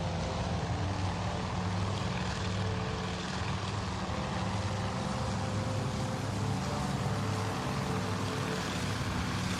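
Torpedo bomber engines in a naval combat game drone steadily throughout, a constant broad propeller roar at moderate level with no breaks.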